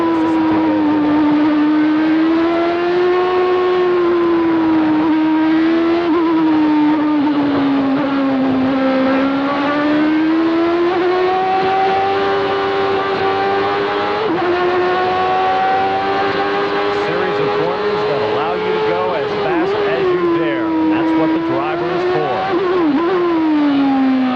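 Formula 1 race cars race at Suzuka during the 1992 Japanese Grand Prix. A continuous high-pitched engine whine rises and falls as the cars drive down the main straight, loud and steady with no voices over it.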